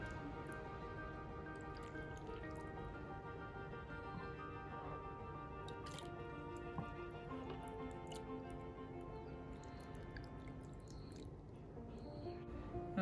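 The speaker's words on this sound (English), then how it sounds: "And then we are gonna go in with our broth that we made earlier." Broth is poured into a bowl of udon ramen, a faint, quiet trickle with small scattered drips and splashes against a steady low background.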